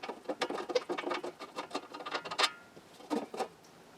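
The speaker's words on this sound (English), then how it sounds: "So let me unscrew this." Light metallic scratching and tapping comes from a ring clamp being unscrewed on a 1927 Utah Model 16 drum speaker. The close clicks and scrapes are uneven and fairly quiet, with brief louder ticks near the end and no talk.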